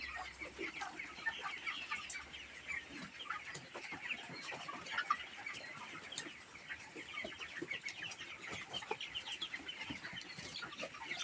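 Chickens cluck and chatter continuously in a poultry pen being raised for harvest, a dense layer of overlapping bird calls held at steady level throughout, with no voices present.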